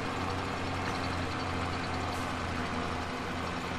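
A tractor engine in the farming game Farming Simulator 22 runs with a steady low drone and hum, constant and unbroken at moderate volume.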